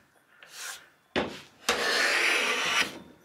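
A Veritas scraper plane drawn across wood, producing a few short scraping strokes followed by one long, loud rasping pass taking thin shavings, close and with no talk.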